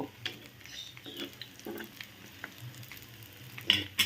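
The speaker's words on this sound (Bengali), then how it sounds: "আস্তে আস্তে করে ধীরে ধীরে আমি অল্প তেলে ফ্রাইং প্যানে ভেজে নিচ্ছি" Eggplant fritters (beguni) shallow-frying in a little oil in a frying pan, giving a soft, crackling sizzle with small pops and a few handling clicks, quiet and close.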